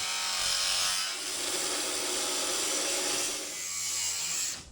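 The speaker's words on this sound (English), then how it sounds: "we're going to try a Sawzall, see if we can reach up in here, kind of get this all trimmed back" A Sawzall reciprocating saw trims back metal in a tight spot on a Speed Pacer, giving a loud, steady, raspy buzzing cut that runs almost without a break and eases off near the end.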